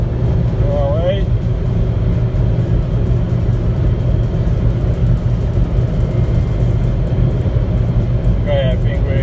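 A Jeep Renegade driven near its top speed on the road, its engine and road roar forming a loud, steady drone throughout, with occasional speech faintly over it.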